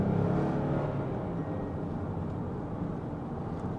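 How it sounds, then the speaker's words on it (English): A 2021 Kia Carnival engine accelerating from inside the cabin, a steady low rumbling drone that holds constant with a faint whine above it and no voices. "I like the engine sound a lot."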